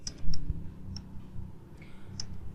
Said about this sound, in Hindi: बल्कि आप कीबोर्ड से दो टैब प्रेस।